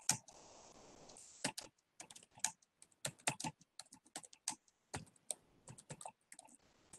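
Someone types on a computer keyboard up close in a quiet room: irregular bursts of sharp key clicks, with a brief soft hiss at the start.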